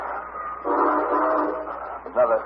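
A radio drama sound effect of a passing train, with a chugging, rumbling roar that swells and holds, then a brief horn-like whistle near the end, heard fairly close.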